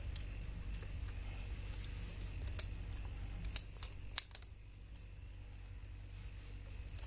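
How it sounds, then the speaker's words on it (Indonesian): Two quick, sharp snips of scissors cutting a blue electrical wire while repairing an electric fan, close by and fairly quiet over a steady low hum. "Sekarang saya akan menggunting kabel yang berwarna biru."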